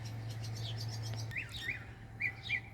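A bird sings outdoors in a yard after a light storm, with a few short, bright chirps and whistled notes at moderate distance over a steady low hum.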